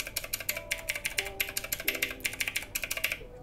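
Mechanical keyboard switches on a Divoom Ditoo pixel-art speaker click in a quick, uneven run of sharp, bright keystrokes, close and crisp, with short pauses between bursts and no voices.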